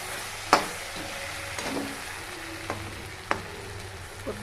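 Potato and capsicum pieces cook in a pan for vegetable rice, giving a soft steady sizzle broken by a few sharp clinks and scrapes of a utensil against the pan.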